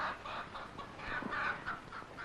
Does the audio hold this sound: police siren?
no